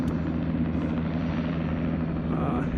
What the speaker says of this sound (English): I think this is the police helicopter.